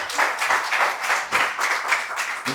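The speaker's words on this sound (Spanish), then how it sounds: "Dale un fuerte aplauso al Señor." A church congregation claps loudly and steadily in sustained, dense applause during a Spanish-language worship service, with no talking over it.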